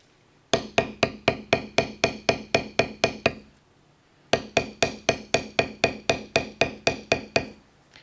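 A leather belt edge being beveled with a tapped beveler tool: two bursts of about a dozen crisp, evenly spaced taps each, close and clear, separated by a short pause.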